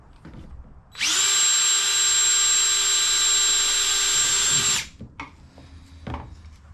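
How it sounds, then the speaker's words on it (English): A power drill re-drills a misplaced hole while building a shrimp gun, giving one loud, steady, high whine for about four seconds that cuts off abruptly, followed by faint handling clatter. "I'll drill this one correctly now"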